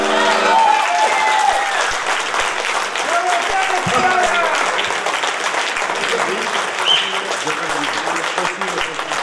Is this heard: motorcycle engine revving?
no